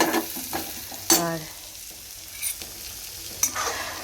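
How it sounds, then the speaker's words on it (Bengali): Cabbage curry cooks in a pan as a spatula stirs and scrapes in a few quick strokes over a soft sizzle, close and without talk. "এখানে বাঁধাকপির তরকারিটা হচ্ছে"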